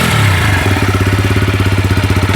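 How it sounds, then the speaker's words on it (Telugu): A 2025 TVS Apache RTR 160 4V motorcycle fires up and settles into idle, a brief starting burst followed by a steady, rapid thumping beat, loud and close with no talking. "ముందు ఇంజన్ స్టార్ట్ చేస్తాను, ఒకసారి ఇంజన్ యొక్క బీటింగ్ ఎలా ఉందో వినండి."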